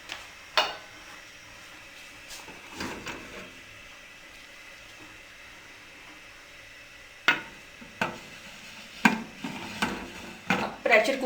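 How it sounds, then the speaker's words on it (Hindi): Metal clatter as a lid is fitted onto a pressure cooker holding mixed lentils and water, with scattered sharp clanks and knocks coming in short groups, close and fairly quiet. "अब इसके ऊपर हम ढक्कन लगाएंगे।"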